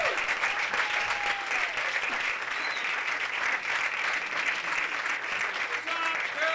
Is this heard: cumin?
no